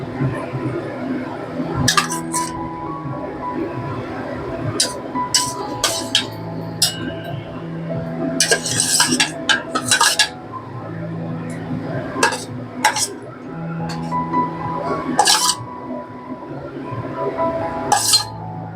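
Fried fish pieces being added to curry in a pan, with repeated metallic clinks and scrapes of utensils against the pan over a low simmer, close and fairly loud.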